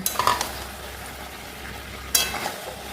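Potatoes, garlic and onions are tipped into hot oil alongside mutton and stirred, giving a steady close sizzle with scraping utensil strokes and a louder clatter partway through.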